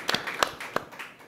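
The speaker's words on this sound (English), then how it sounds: "And another round of applause for these wonderful people who planned this whole event tonight." A few scattered hand claps from an audience thanking the planners of a food-future design event, five or so sharp, separate claps over a quiet room rather than full applause.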